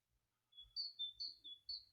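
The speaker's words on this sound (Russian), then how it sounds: "Птица хорошо поет." A bird sings outdoors in a quiet rural spot, giving a short run of faint, high, thin chirps in quick succession.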